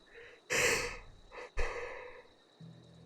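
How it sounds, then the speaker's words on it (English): A person yawns aloud: a long, breathy drawn-out exhale with a stretched vocal tone, then a second shorter breathy burst, close to the microphone with no talking. "I'm fucking yawning."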